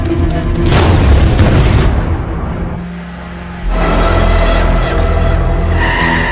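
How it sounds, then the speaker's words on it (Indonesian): A castle blown up in an action film: a loud, heavy explosive roar with rumbling debris that dips briefly around the middle, then surges back into a second sustained blast. "Maka mafia tersebut langsung meledakkan kastilnya."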